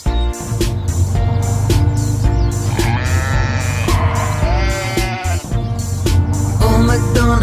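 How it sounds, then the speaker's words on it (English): Sheep bleat repeatedly and loudly, close up, in a string of wavering baa calls over a low steady rumble, with no one speaking. "And on his farm he had a sheep, E-I-E-I-O. With a ba-ba here and a ba-ba there."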